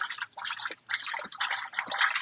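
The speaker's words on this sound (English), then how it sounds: "We're gonna put the Antifreeze from Mercedes-Benz." Mercedes-Benz antifreeze coolant is poured from a jug during a coolant flush on an S550, with a glugging, bubbling flow in uneven surges broken by short gaps.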